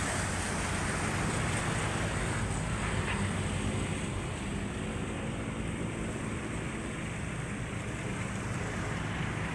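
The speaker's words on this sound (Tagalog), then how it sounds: "Dito kami sa tabing dagat." Wind and surf wash steadily along a seashore, a dense, even rush of waves and gusts that stays constant and fairly distant, with no voices over it.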